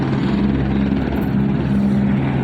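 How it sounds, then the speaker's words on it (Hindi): A helicopter on a passenger ride near Kedarnath, heard from inside the cabin as a loud, steady rotor and engine roar with a constant droning hum and no break. "चलते हैं फिर करते हैं आज हेलीकॉप्टर की सवारी।"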